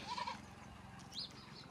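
Goats bleat on a farm in the morning: a couple of short, fairly faint calls, one near the start and another about a second later, over quiet outdoor background.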